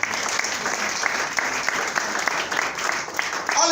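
A church congregation applauds to acclaim the Lord, with dense, sustained clapping from a large crowd that stays loud and steady throughout, close and alone without speech.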